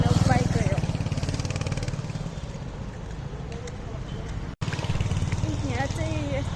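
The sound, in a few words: motorcycle passing by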